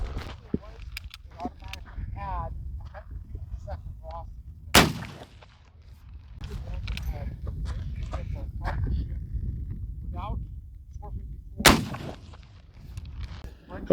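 Gunshots from a Civil War Confederate Richmond carbine, two loud sharp reports spaced several seconds apart outdoors, with people talking and background noise between them.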